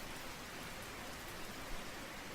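Rain ambience from a visual novel game: a steady, dense hiss of falling rain, even and unbroken throughout, with no voices.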